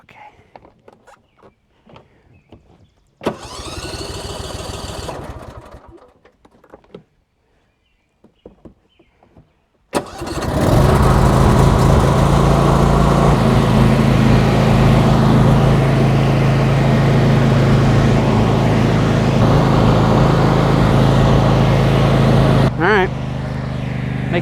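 A Husqvarna riding lawnmower engine cranks briefly, then starts and settles into a loud, steady idle close by, with a few soft sounds before it.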